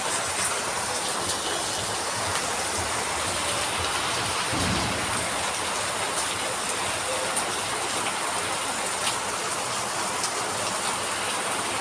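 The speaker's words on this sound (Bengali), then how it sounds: "মুষলধারে বৃষ্টি হচ্ছে।" Heavy pouring rain roars steadily without a break, and a low rumble of thunder swells briefly partway through. The downpour stays dense and close, with no voices.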